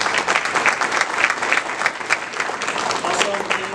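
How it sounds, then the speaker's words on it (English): Applause at a school board meeting for a state player of the year, a crowd of hands clapping in an uneven, fluttering burst with a little talk mixed in underneath. "Let's give that a round of applause."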